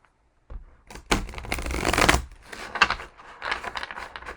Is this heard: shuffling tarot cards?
yes